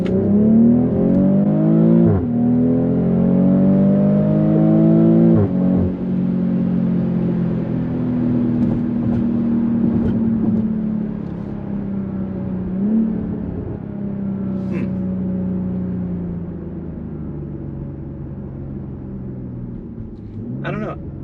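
A BMW X3 M40i's engine rises in pitch as it accelerates, then drops through downshifts while driving, a steady close hum with gear changes heard under ongoing talk.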